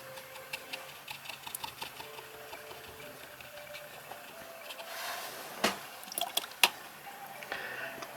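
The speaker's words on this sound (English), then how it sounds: "I'm going to wet the paper first with some clear water." Quiet wet brushing as a brush wets watercolor paper with clear water, soft watery dabs and a few drips, sparse clicks scattered through, louder splashy strokes near the end.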